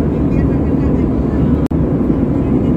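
Steady, loud cabin drone of an airliner cruising on a Trivandrum to Maldives flight: a dense low rumble that barely changes, broken once by a sudden momentary dropout.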